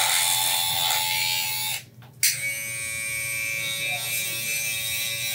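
A fast-running electric hair clipper motor gives a steady, close, loud high-pitched buzz that cuts out for a moment and then resumes its constant whine.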